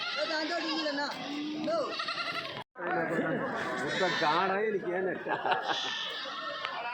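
Several goats bleat repeatedly and loudly nearby at a livestock market, overlapping with a busy crowd of people talking in the background.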